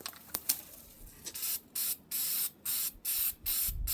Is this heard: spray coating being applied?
yes